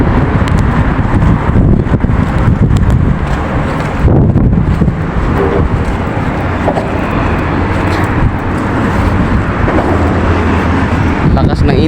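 Strong wind buffets loudly and continuously under a Saudi overpass in the heat, a heavy rushing roar that dominates throughout.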